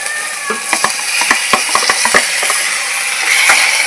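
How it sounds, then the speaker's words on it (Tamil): Ginger garlic paste sizzles in a pan while a spoon stirs and scrapes it in a steady series of clicks and knocks, with tomato going in, close up and with no talking. "இஞ்சி பூண்டு பேஸ்ட் வதங்கினதுக்கப்புறம் தக்காளி போட வேண்டியதான்."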